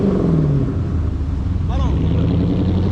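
A Dodge SRT's engine rumbles and revs close by in a continuous throaty roar, with people talking over it.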